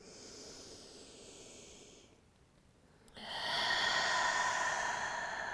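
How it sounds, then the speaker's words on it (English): During a vinyasa yoga flow, a long, steady breath is exhaled through the mouth with a soft, airy hiss. It fades into a short quiet gap, and then a stronger, louder breath follows close to the listener. "exhale, let it out through the mouth"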